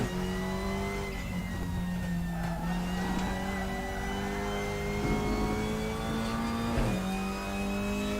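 Opel Astra TC race car in RaceRoom with a DSG gearbox: a steady engine drone that climbs in pitch, with quick gear changes marked by brief pops and dips, moderately loud from the cockpit.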